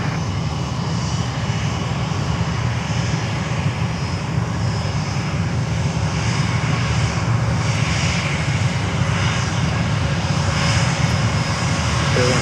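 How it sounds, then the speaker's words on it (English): A Spirit Airlines Airbus A320 in yellow livery at Fort Lauderdale airport produces a steady, loud jet-engine roar that holds broadband and unbroken for the whole span, with no talk over it. "Spirit is coming up here on their yellow 320."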